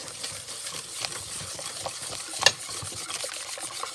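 Cherry jam with sugar being stirred in a pot, giving a soft, continuous scraping and swishing with a few light clinks of the spoon against the side.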